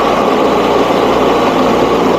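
A 9 lb vibratory rock tumbler loaded with rocks runs close by, a loud, constant buzzing rumble with a dense rattle, steady throughout.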